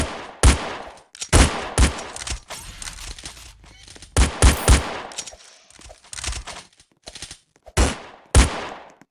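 Gunfire in the Roblox game Murder Mystery 3: loud, sharp shots arrive singly and in quick clusters at irregular intervals, with quieter game noise between them.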